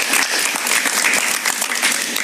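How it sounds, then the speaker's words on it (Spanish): Loud, dense studio audience applause on a Spanish-language television talk show, continuous clapping with no letup across the whole stretch. "Un aplauso para ellas,"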